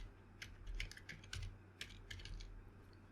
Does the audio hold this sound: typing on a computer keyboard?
yes